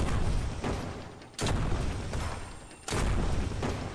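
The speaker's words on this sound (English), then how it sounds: "And then the artillery cannon." Artillery cannon in the video game Armored Core firing rockets: three heavy booming blasts roughly every second and a half, each a sharp loud burst trailing into a rumbling decay, with no talking.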